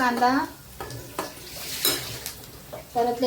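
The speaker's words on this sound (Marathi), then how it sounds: "हळद टाकून कांदा परतून घ्यायचा" Chopped onion sautés with turmeric in a pan, a soft sizzle with a few scraping stirs, interrupted by a person talking at the start and end.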